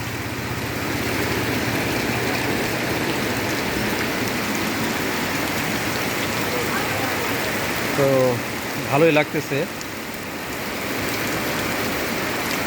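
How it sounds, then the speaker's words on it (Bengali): Steady rain falls in an outdoor street setting, a constant broadband hiss that holds through the whole stretch, with a brief spoken phrase and a passing vehicle engine heard near the end. "বৃষ্টিতে ভিজলে আরও বেশি ভালো লাগতো"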